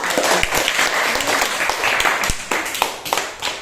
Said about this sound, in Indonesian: Oke, beri aplaus lagi.